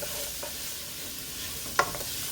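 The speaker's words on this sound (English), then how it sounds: "I really want to let this saute for about 5 minutes" Onions and carrots sautéing in a pan, a faint, even sizzle with one brief utensil clink partway through, no talking.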